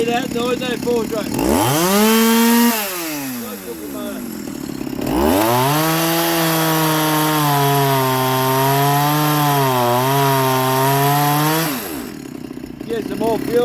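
A ported Shindaiwa 390sx chainsaw revs loud and close while cutting wood, its engine pitch rising and falling through two long sustained cuts with a brief pause between them.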